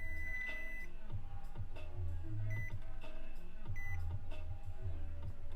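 Quiet, short electronic tones repeat at an uneven rhythm as a multimeter continuity tester is worked across a laptop motherboard, over a steady low hum.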